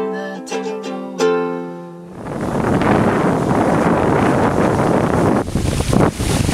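Strong westerly wind on a sailing boat cruising near reefs at Coral Bay, heavy buffeting wind roar with water wash that begins after a brief sung tone and continues loud and close.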